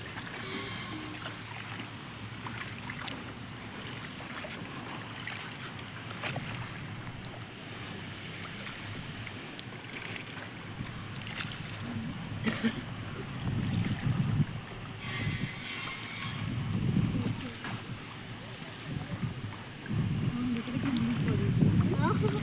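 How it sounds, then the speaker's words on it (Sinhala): A boat ride on open water, with low engine rumble, water wash and wind buffeting the microphone growing louder toward the end, while voices talk faintly in the background. "අපි යනවා බෝට්ටු සවාරි."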